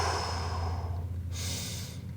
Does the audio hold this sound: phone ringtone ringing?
no